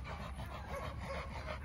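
A game bulldog, a purebred red female, pants steadily up close, a continuous soft breathy rhythm with no voices.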